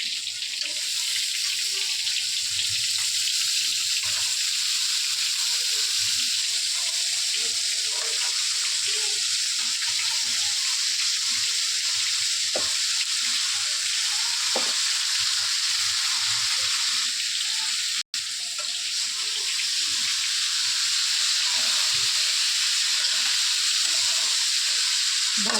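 Shrimp with chili, onion and spices, now joined by vegetables, frying in hot oil over a stove, giving a steady broad sizzle with faint spatters and occasional clinks, continuous and close throughout.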